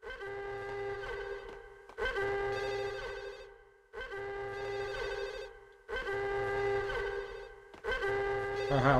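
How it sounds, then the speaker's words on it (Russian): An old-style telephone bell rings in the game Max Payne, four and a half evenly spaced trilling rings with short pauses between, fairly close and clear. "Ага, вот телефон."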